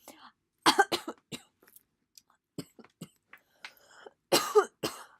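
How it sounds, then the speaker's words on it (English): Several sharp, close coughs in short clusters, with a throat-clearing rasp and quiet pauses between bursts. "Sorry, I went to cough."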